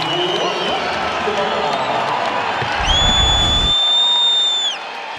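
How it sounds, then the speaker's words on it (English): A college basketball arena crowd roars and cheers at a South Dakota State vs Nevada game, a loud sustained swell. A commentator talks over it and a high referee whistle sounds late in the clip. "This is the loudest we've heard this crowd all night long"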